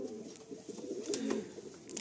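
A female Madrasi pigeon coos softly in low, rolling murmurs against a faint background hiss.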